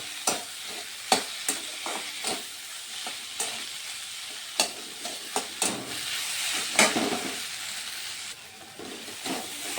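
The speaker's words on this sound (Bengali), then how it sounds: "এগুলো দিয়ে এখন আমি এগুলোকে একটু ভালোভাবে মিশিয়ে নিচ্ছি" Spiced chilli chop filling with turmeric and cumin powder stirred in a hot pan, a soft frying sizzle broken by a dozen sharp spatula knocks and scrapes at an irregular pace, close and without speech.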